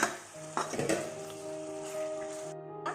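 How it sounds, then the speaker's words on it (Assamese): Spices are stirred in a pot for chicken curry, with a spoon scraping and clinking against the metal over a soft sizzle and a faint hum, heard close. "মছলাখিনি আপোনালোকে লৰাই থাকিব, যাতে তলত ধৰি নাযায়।"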